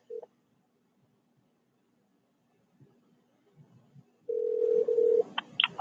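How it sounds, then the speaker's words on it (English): A telephone dials a number: after a silence and a few faint clicks, a steady tone sounds for about a second, then several short dialing beeps, fairly close and without talk. "Call my attorney's number."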